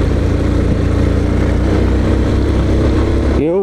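A Yamaha Super Ténéré 1200 motorcycle riding, its loud, steady engine drone with a continuous low throb close by, cutting off sharply at the end.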